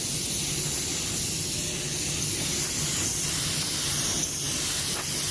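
Spray gun laying a second coat of matte clearcoat onto a car body, a steady close hiss running without break under a low background rumble.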